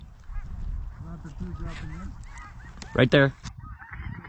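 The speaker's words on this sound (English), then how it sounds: "Ducks to the left. Ducks are coming." Ducks and snow geese calling as they fly in toward a sunrise hunting spread, with a loud burst of honking and quacking near the end while hunters talk quietly over it.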